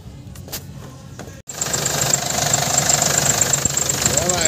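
A Hyundai Starex van engine turns over, then settles into a steady, loud idle with a constant rumble and a high whine after balancer and timing chain work; a voice is heard briefly beforehand.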